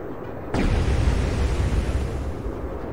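Explosion in the video game Turok 2 Remaster bursts in suddenly after a short quiet moment, then roars as a loud, sustained blast that slowly fades over the next few seconds.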